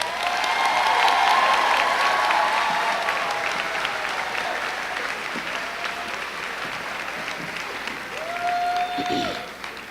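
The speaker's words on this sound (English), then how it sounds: "please join me in giving this young lady a round of applause, Miss Rosetta Alexis Hairston" Sustained applause from a large crowd at a high school graduation ceremony fills the space, steady and dense, with a few faint cheers and whistles rising through it.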